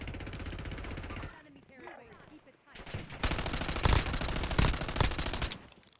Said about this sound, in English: Oh shit, somebody's shooting me.